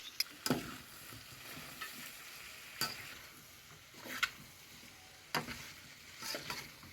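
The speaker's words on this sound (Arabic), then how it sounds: "وعليهم بمعلقتين كبار صلصه طماطم ونديهم تشويحه مع بعض" Sausage and vegetables sautéing with tomato paste in a pan give off a quiet, continuous sizzle, broken by occasional scraping clicks as the mixture is stirred.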